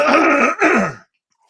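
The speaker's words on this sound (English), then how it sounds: "I've been coughing and clearing my throat" A single harsh throat clearing, two quick rasping bursts close to the mic, followed by silence.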